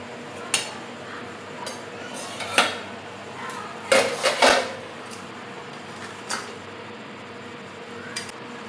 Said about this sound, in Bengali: ঢাকনাটা খুলে দেখি বন্ধুরা এবার।